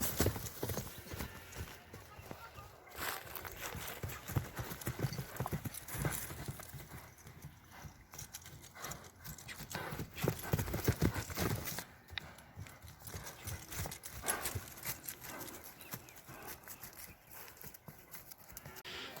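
A large horse's hooves clip-clop steadily as it is led at a sale, the footfalls fairly faint, with people talking nearby throughout.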